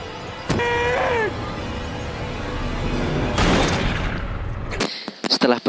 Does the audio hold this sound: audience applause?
no